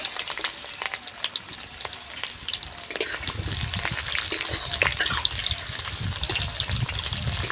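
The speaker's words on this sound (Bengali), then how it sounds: "পেঁয়াজটাকে নাড়াচাড়া করে হালকা ভেজে নেব" Chopped onions stirred and fried in hot oil with cumin, mustard seeds and bay leaves, giving a steady crackling sizzle with scraping stirs, close and fairly loud, with no talking.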